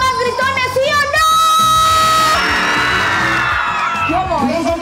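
Circus audience shouting, whooping and yelling together in a loud, sustained burst of mixed voices, close and filling the space.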